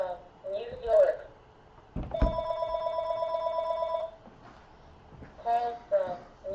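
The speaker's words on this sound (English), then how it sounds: "Can I answer the phone?" A telephone rings with a rapid electronic trill that lasts about two seconds, clear and close, between stretches of people talking.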